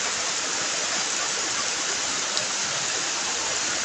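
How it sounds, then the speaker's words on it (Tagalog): Muddy floodwater rushing in heavy rain, a dense, constant broadband roar that is loud and unbroken, with no voices over it. "Putik na yung dinadala nitong tubig, ah."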